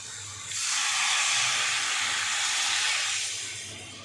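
A little water splashes into a hot pan and bursts into a loud, steady steam hiss that swells after half a second, holds for nearly three seconds, then fades.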